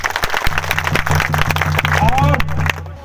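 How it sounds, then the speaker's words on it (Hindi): Crowd clapping at a village community gathering in Gumla, loud dense applause with many hands, sounding close, while a voice talks over it and a steady tonal hum runs underneath. "सबके लिए तालियां बजाओ"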